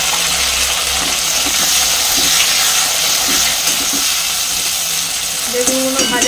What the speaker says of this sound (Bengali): বেগুনগুলো ভাজা হয়ে যাক।